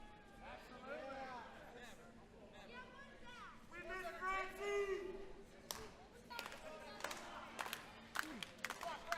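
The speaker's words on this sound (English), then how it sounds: "Crowd catcalling for Francine." Wrestling arena crowd at an event featuring Tommy Dreamer, Shane Douglas and Jake "The Snake" Roberts, calling and jeering through steady hubbub, with scattered claps and whistles rising toward the end under a commentator's voice.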